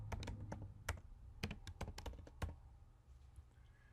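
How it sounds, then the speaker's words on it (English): Computer keyboard typed on in a short quick burst of distinct key clicks, a dozen or so irregular taps that thin out and stop near the end, close and quiet with no talk. "A search window will open into which you should type Font Book."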